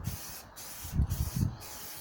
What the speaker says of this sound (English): Short, sharp, sweeping bursts of the spray paint.